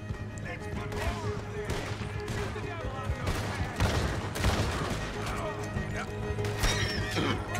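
Hooves pound rapidly in a galloping rhythm in Red Dead Redemption 2, joined by bursts of gunfire, a horse's whinny and voices talking over the chase.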